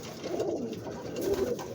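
Pigeons kept for breeding give a low, soft cooing that rises twice in a brief, close stretch over quiet background hiss.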